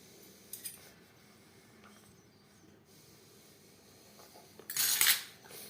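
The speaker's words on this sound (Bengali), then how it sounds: "কাটা চামচের সাহায্যে একটা ডিজাইন করে নেব" A metal fork presses a decorative pattern into a handmade sandesh sweet: a faint tap early on, then a short, louder, crisp scraping clink near the end over a quiet background.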